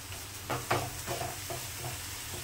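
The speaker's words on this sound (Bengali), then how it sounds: "এইভাবে পোস্তটা পুরো লাউটার মধ্যে মিশিয়ে নেব" A spoon stirs poppy seed paste through chopped bottle gourd in a pan, giving soft scraping strokes in an uneven rhythm over a low, steady sizzle, close and fairly quiet.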